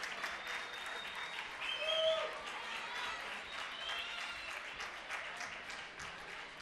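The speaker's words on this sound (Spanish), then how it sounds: "Un fuerte aplauso para ellas." Audience at a municipal rhythmic gymnastics gala giving the young gymnasts a round of applause, dense continuous clapping from a crowd with scattered voices and cheers mixed in, swelling briefly then holding steady.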